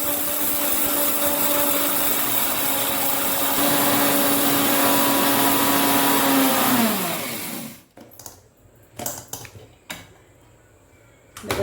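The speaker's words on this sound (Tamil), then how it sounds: "அதை மிக்சியில் போட்டு அரைச்சிடுவோம் நைஸாக" Kitchen mixer grinder powdering roasted rice, a loud whirring motor hum with a steady pitch that winds down and cuts off, followed by a few short bursts of grinding.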